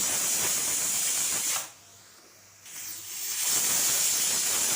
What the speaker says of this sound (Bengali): মটর ডাল যেহেতু সেদ্ধ হতে একটু বেশি সময় লাগে তাই চার থেকে পাঁচটা সিটি আমি দিয়ে নিচ্ছি